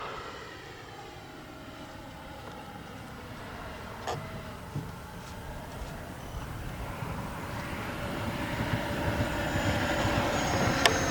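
The jet engine of a FlyFans L-39 RC jet plane taking off whines, steadily building in pitch and loudness, a high turbine tone over broadband rushing noise, with a couple of sharp clicks along the way.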